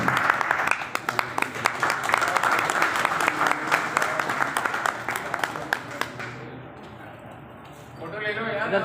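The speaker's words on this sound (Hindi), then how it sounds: "खंडाल साहब को जोरदार तालियों से आप" Loud crowd applause for a chief guest at the launch rally of a movement for jobs and bread as a birthright. Dense clapping fills about six seconds, then thins as voices talk in a quieter hall.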